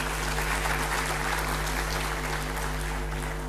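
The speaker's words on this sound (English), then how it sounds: "Let's give them a very big round of applause." An audience at a conference session claps steadily, a dense, even wash of applause with a constant low hum underneath and no voices.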